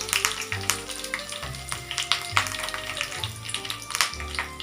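Curry leaves hit hot oil already crackling with mustard and cumin seeds, a steady loud sizzle with dense popping and spitting throughout, alongside a low musical background hum.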